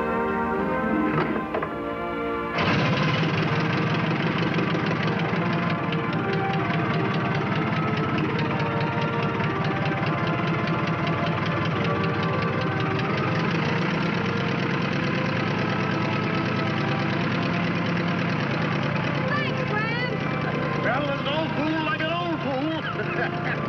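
A crop duster airplane's piston engine running steadily, a dense continuous drone with a rough knocking texture after a brief start, fairly loud and sustained, with voices occasionally over it.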